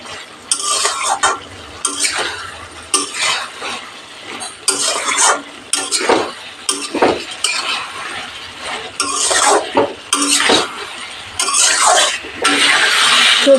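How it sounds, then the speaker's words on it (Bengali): Vegetables frying over medium heat in a pan for a vegetarian coconut curry, with a steady sizzle and repeated scraping stirs of a metal spatula, loud and close, no talking. "এবার হিটটা একটু মিডিয়াম করে জল টানিয়ে সবজিগুলো ভাজা ভাজা করে নেব"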